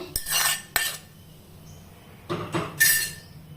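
A spoon stirring coconut rice with salt in a metal pan gives a few separate scraping, clinking bursts with quiet gaps between them, close and fairly loud.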